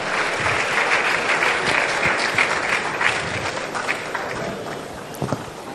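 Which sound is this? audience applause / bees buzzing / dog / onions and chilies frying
audience applause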